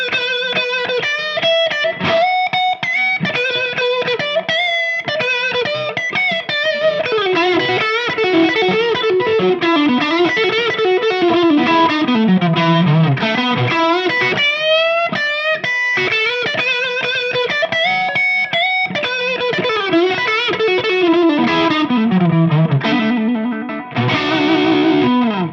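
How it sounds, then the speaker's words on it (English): Distorted electric guitar played continuously through an overdrive pedal with its king tone switch in the first, down position, aiming for a thick blues tone; loud, sustained riffing with bends and no talking. "So now if you go with that one down on that king tone switch"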